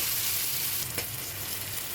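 Peas sizzle steadily in a hot wok, a constant crackling hiss with one brief stir partway through.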